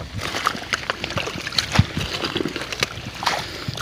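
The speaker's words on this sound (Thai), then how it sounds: "น้ำตกนะ" Water rushes and splashes at a waterfall, a steady broadband wash broken by irregular slaps and sloshes close by, with faint voices in the background.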